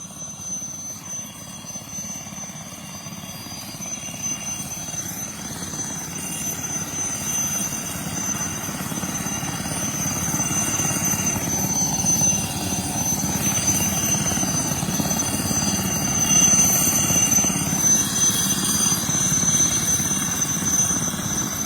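An Army helicopter lands at a village stadium in Punjab, its rotor beating in a steady, loud drone that grows slightly stronger as it comes closer, with no speech audible.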